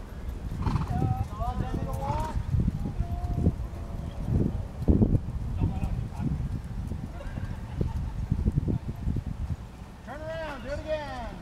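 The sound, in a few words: horses trotting, hooves clip-clopping and neighing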